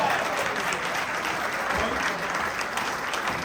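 Applause from an audience at a Democratic primary debate at a marina venue, steady dense clapping that carries evenly for a few seconds.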